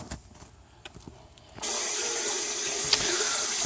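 Water gushes steadily from a Navien CH240 combi boiler during a flush, starting abruptly after a quiet moment and continuing as a loud, close, constant rush.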